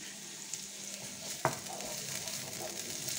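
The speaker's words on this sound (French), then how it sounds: "Alors, on remue" Seasoned round courgettes sizzle quietly in a pan while being stirred, with a low steady frying hiss and one sharp utensil knock partway through.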